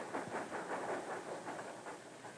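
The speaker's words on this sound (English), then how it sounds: "He hears the train coming into the station" Faint, rhythmic chuffing and soft hissing of a 1972 steam train arriving at Ohrid station, heard from a distance and pulsing steadily as it rolls in.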